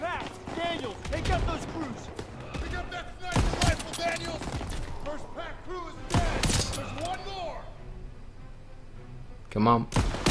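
Call of Duty WWII gameplay gunfire during a wartime battle, with bursts of rifle and machine-gun shots and explosive thumps scattered across the scene, mixed under a player's talk and game sound.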